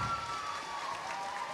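Audience applause at a cosplay contest, a steady wash of clapping that stays fairly faint and even throughout, with no voices breaking through.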